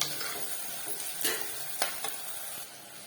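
Onions softening in hot oil in a pan for a Tamil-style chicken kulambu, a steady low sizzle with a few sharper stirring scrapes and clinks, close and fairly quiet, no talking.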